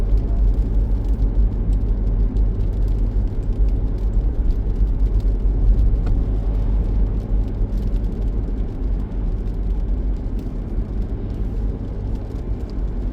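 Steady road and engine rumble from inside a Citroën Picasso driving along a Swiss road, a constant low drone at fairly high level with no talking.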